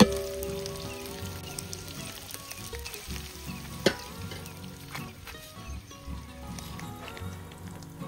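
Onions sizzle steadily in hot oil in a pan for a village-style goat head and tripe curry, with occasional stirring clatter and one sharp utensil knock partway through, and no talking.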